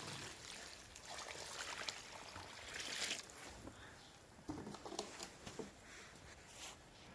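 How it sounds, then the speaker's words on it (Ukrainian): A bucket of settled rainwater is poured into a planting hole for a grape vine, giving soft, uneven splashing and trickling close by that fades in and out for several seconds, fairly quiet, with no voices. "Заливаємо перше відро відстояної дощової води без нічого."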